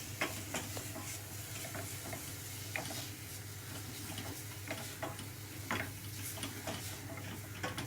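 Diced vegetables with thyme sizzle steadily in a hot pan while softening, a close, even crackle dotted with small pops and ticks, with no one speaking.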